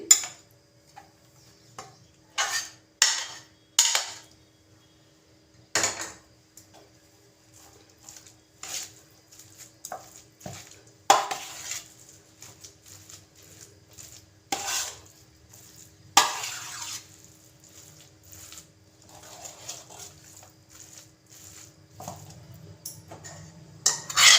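A spoon scraping and clinking in a pot as spice masala is mixed into hot cooked rice for North Karnataka village-style masala butti, heard as irregular close taps and scrapes with quiet pauses, no talking.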